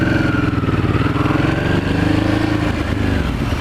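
A motorcycle rides through New York City streets, its engine rumbling loudly and steadily from close by, with a brief change in pitch and no talk.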